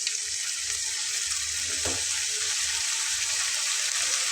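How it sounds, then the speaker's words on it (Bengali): Masala spices frying in oil for a chicken curry, a steady broad sizzle with a brief stirring scrape near the middle, close and continuous with no talking. "মশলাটাকে খুব ভালোভাবে আমি কষিয়ে নেব যতক্ষণ পর্যন্ত না উপরে তেল চলে আসবে"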